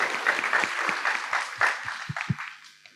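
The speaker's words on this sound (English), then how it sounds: "An applause, please." Audience applause at a CEO and CMO business summit on sustainability, a dense burst of clapping across the hall that thins and fades toward the end.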